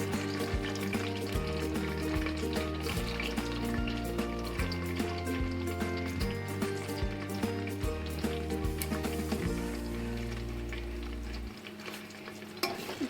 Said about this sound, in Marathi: कांदा सगळं परतून घेऊ आपण